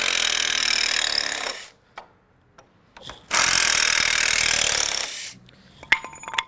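Power screwdriver driving screws into wooden reinforcement pieces while assembling a garden shed, heard as two long loud whirring bursts separated by a quiet gap with small knocks, then faint clattering at the end.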